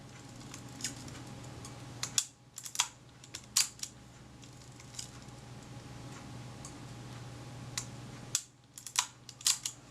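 Close, crisp mechanical clicks and ratcheting ticks of a Kodak Retina IIc camera's film advance and shutter, coming in short bursts with quiet pauses between.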